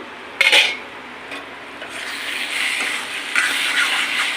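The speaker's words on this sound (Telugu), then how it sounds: "ఇప్పుడు మనం మూత తీసి కలుపుకుందాము." A pot lid comes off with a couple of sharp metallic clinks, followed by steady scraping and clattering as a utensil stirs the contents of the cooking pot, close and moderately loud.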